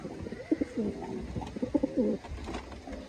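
Racing pigeons cooing in a loft, a run of soft, throaty low coos repeating close by, with faint background noise and no talking.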